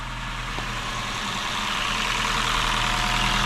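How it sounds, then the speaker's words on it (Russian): A Honda Shuttle engine idles steadily while relearning its throttle-body idle after a clutch replacement on its automated manual gearbox, a close, even hum with a faint rise in level and no voices. "Сейчас поставил его на обучение дроссельной заслонки. Ну и все, в принципе, машина пусть обучается холостому ходу."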